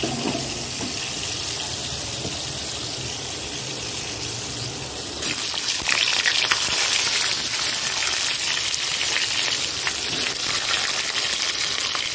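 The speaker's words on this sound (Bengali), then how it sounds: "এদিকে বরবটি ভাজছি" Yardlong beans fry in a pan of hot oil, giving a dense, steady hiss that runs throughout and grows louder and harsher about halfway, with no talking.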